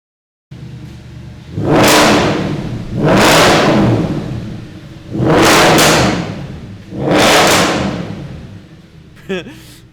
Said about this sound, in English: Let's see what an Audi S5 V8 sounds like with back box deletes.